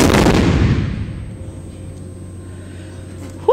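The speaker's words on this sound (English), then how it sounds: "The gun is now loaded and ready to fire." A historic cannon fires in Savannah with one huge close blast that rolls away into a long fading rumble, followed by near silence.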